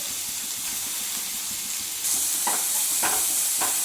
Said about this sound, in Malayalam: ചൂടായ ഓയിലിലേക്ക് ചെറുതാക്കി അരിഞ്ഞ സവാള, 2 സവാളയാണ് എടുത്തിട്ടുള്ളത്.